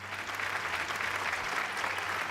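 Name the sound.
audience applause for Kerala police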